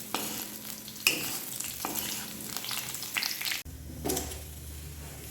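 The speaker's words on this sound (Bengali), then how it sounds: "আর কড়াইয়ের মধ্যে আমি তেলও দিয়ে দিয়েছি, আর এই যে ফোড়ন, গোটা জিরে, শুকনো লঙ্কা, আদা।" Whole cumin seeds, dried chillies and ginger sizzle in hot oil in a wok, a steady quiet crackle with occasional stirring scrapes and a brief clank, no talking.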